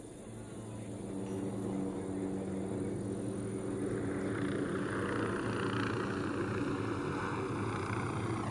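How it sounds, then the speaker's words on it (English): A helicopter closes in within Tom Clancy's Ghost Recon Wildlands, its rotor drone building to a steady, loud rumble that holds throughout and masks faint ambient game sounds. "Chopper incoming."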